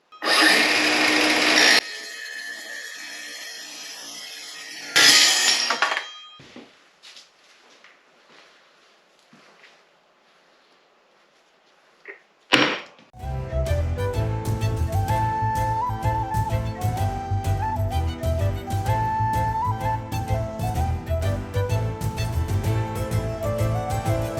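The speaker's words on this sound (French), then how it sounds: "je vais utiliser la nouvelle scie circulaire spéciale métaux" A new metal-cutting circular saw slicing through 6 mm thick steel for a Viking axe build: two brief loud bursts, a quiet pause, then a long, continuous high-pitched grinding whine with rhythmic scraping.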